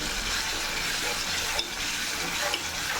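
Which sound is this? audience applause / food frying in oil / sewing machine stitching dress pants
food frying in oil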